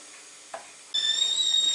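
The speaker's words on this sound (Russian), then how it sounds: "Так, чайник закипел." Kettle coming to the boil to scald a new wooden barrel, with a soft hiss that breaks into a sharp, steady whistle, close and clear.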